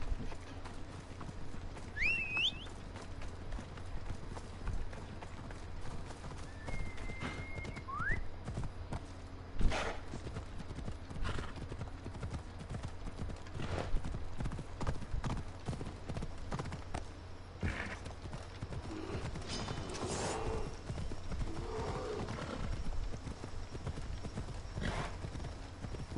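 Horse hooves clip-clop steadily on the ground in the video game Assassin's Creed Odyssey, with a whinny heard early on, under occasional low talk and game sounds.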